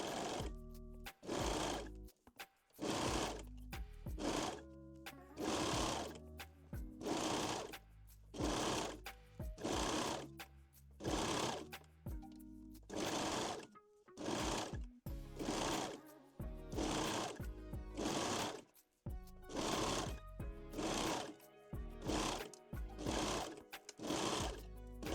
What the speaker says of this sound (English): we can sew the layers together.